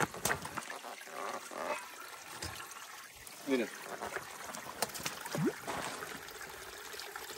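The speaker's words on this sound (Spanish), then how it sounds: "Agua corriendo es la más deliciosa y está helada." Cold water running in an outdoor stream, a continuous trickling flow close by, with a person speaking over it at times.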